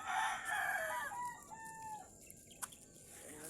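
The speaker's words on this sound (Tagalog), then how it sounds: "Sarap hulihin yung manok." A chicken crows loudly at the start, then gives a few softer clucks and squawks against quiet outdoor background.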